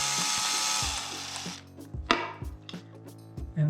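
Small power drill working a hole in a hobby RC car part: a steady high-pitched whir that spins down, followed by a series of short mechanical clicks and knocks, close and moderately loud with no talk.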